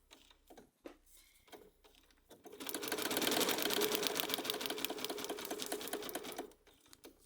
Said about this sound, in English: Lock stitch at my corner where the two seams meet.